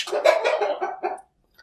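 Pet chickens calling noisily close by, a loud harmonic squawking burst lasting about a second before cutting off into quiet.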